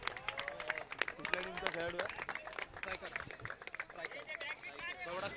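Crowd applause at an outdoor cricket tournament prize distribution ceremony, steady clapping running the whole stretch beneath loud overlapping speech and cheering voices.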